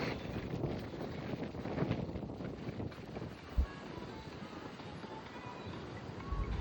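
Strong wind buffets an outdoor microphone in cold February weather, a steady rushing roar with gusty swells and one brief thump midway, loud and continuous throughout.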